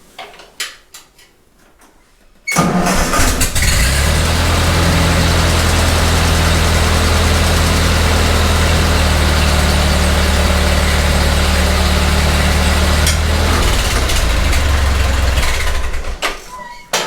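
Ford 8N tractor engine cranks over and catches after a quiet moment, then settles into a loud, steady low idle close by, running for about fourteen seconds before cutting off near the end.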